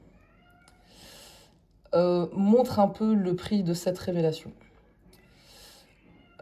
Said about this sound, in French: j'ai mon chat là qui hurle pour rien